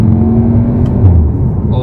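A 2023 VW Tiguan R with a 7-speed DSG gearbox, its engine droning loudly from inside the cabin as it downshifts, with a brief rise in engine note and a voice talking over it.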